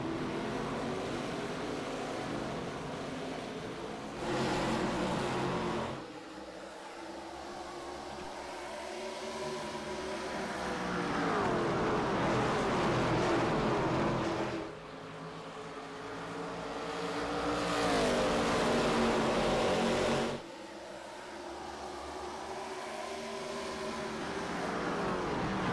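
Several race cars in the iRacing simulator at Phoenix Raceway accelerate at the green flag, a loud, continuous drone of engines with rising and falling pitch sweeps as the field pulls away.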